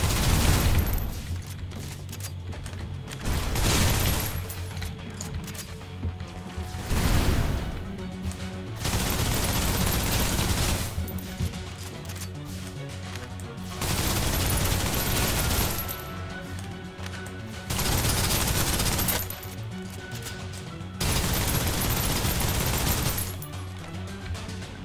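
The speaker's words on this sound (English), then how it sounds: "Suppressive fire." Suppressive fire in the video game Snowbreak: loud bursts of automatic gunfire come in repeated volleys of a few seconds each, separated by brief quieter gaps, sustained across the whole stretch.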